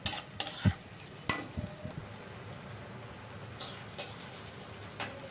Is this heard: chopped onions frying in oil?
yes